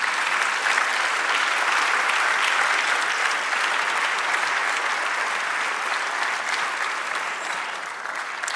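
A church congregation applauds steadily for the Lord, a dense, continuous wash of many hands clapping at even loudness for over eight seconds, tapering slightly at the end.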